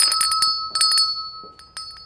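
A small bell rings loud and close in quick clustered bursts of bright metallic chimes, followed by a few softer, scattered dings.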